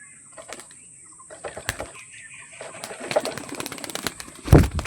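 A pet pigeon, just taken down from its coop, coos softly at close range amid scattered clicks and rustles, with a louder burst near the end.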